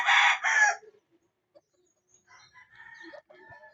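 Brood hens of Yellow Lady Dutch and DBH Black breeds on a farm give two loud, close squawking calls, then a pause before softer scattered clucks and murmurs.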